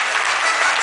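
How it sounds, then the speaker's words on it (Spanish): A short burst of steady crowd applause at a celebration, a dense continuous patter of many hands clapping with no voices. "aplauso"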